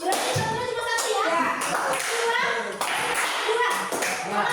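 A group claps hands in counted bursts during a clapping ice-breaker game at a classroom coaching session, the claps overlapping a woman's instructions and children's voices.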